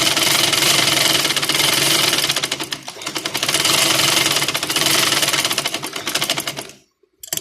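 Sewing machine stitching cloth for a trouser-hem design, loud rapid mechanical chatter running in bursts, easing off briefly near three seconds, then stopping abruptly before a short final tap.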